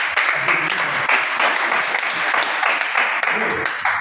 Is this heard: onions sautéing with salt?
no